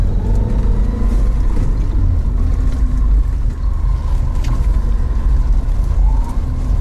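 A car driving around a test track loop at a proving ground, a loud steady engine drone with road rumble, continuous and close throughout.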